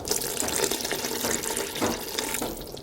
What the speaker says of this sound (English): I'll add just a little water.